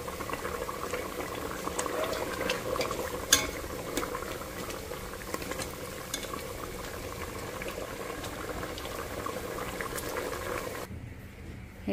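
A pot of mutton for biryani boils steadily at low volume, a soft continuous bubbling hiss with a few small pops, heard alone.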